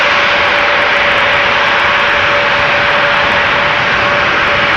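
Jet engines roar at Amsterdam Schiphol Airport: a loud, sustained, close whine and rumble with a steady tone running through it and no pauses.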